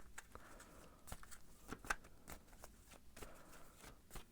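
Tarot cards shuffled by hand in soft repeated riffles and slaps, quiet and close, with no talking.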